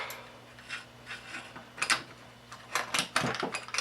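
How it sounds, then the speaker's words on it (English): Metal bolt carrier group of an AKM rifle sliding along the gas tube, a series of close, faint scraping and clicking mechanical sounds with no talk. "Let's make sure that the bolt carrier group goes nicely to the gas tube"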